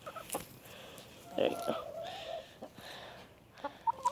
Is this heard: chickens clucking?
yes